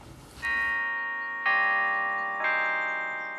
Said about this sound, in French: Le carillon sonne pour les morts de Bonny